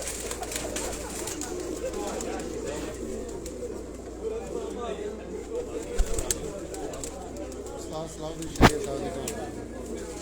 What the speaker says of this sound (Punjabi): ਇਹ ਜੀ ਉਸਤਾਦ ਸਲਾਹੁਦੀਨ ਸ਼ਹਿਰੀਆ ਸਾਹਿਬ ਹੋਰਾਂ ਦੇ ਘਰ ਦਾ ਕਬੂਤਰ ਹੈ ਜੀ।